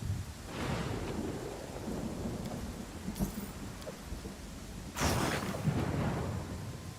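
Thunderstorm in the fantasy RPG Pathfinder: Kingmaker, with rain hissing steadily throughout and two heavy thunder rolls, one faint early and a loud close crash about two-thirds through.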